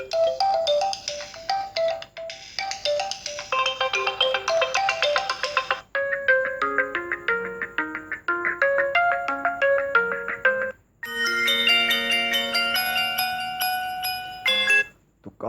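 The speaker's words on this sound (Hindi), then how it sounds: "यहाँ पर चलते हैं साउंड्स के अंदर और रिंग टोन्स को मैं निकाल लेता हूँ और यहाँ से वॉल्यूम को फुल कर लेते हैं" A ringtone plays at full volume through the dual speakers of an OPPO A9 2020 phone, with a bright melodic chime tune that shifts through several phrases and pauses briefly between sections.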